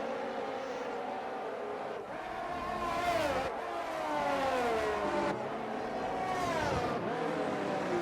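Race car engines from the iRacing sim game, a racing league round at the France circuit, whine and rev in continuous rising and falling sweeps as several cars run close together, loud and steady with no talking.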